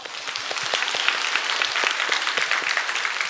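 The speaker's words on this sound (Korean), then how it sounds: "박수 한번 쳐주시죠" A congregation at a church evangelistic revival meeting claps in steady, moderately loud applause, a dense patter of hands that continues evenly without voices.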